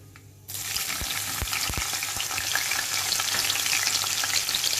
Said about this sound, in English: and green chilies, and fry it for a minute